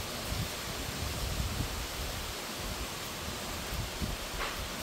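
Steady roaring wind and heavy rain from a typhoon form a dense, unbroken wash of noise with occasional gusts, fairly faint and without voices.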